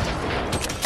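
A sniper rifle shot rings out in Fortnite Battle Royale gameplay, a short loud crack that swells and booms near the end of a brief burst of game noise.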